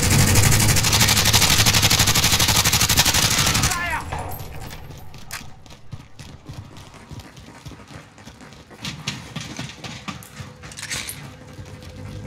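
A loud burst of automatic gunfire in Call of Duty: Warzone for about four seconds, followed by quieter scattered shots, clicks and movement sounds while a player talks.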